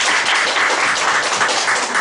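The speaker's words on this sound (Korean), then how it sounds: "다시 한번 박수." Concert audience applauding after a performance, a dense, steady wash of many hands clapping at full loudness throughout, with no voices above it.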